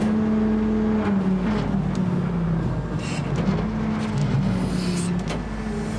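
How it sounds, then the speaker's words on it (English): A hydraulic winch motor strains steadily as it lifts a very large anchor during a deep-water shipwreck salvage, giving a loud, continuous droning whine whose pitch wavers slightly as the load shifts. "See if you can get any more RPMs out of the hydraulic motor."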